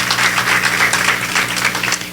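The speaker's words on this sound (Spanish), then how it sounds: "denle un aplauso al Señor" Congregation in a church clapping together in a steady, dense burst of applause, close and continuous throughout.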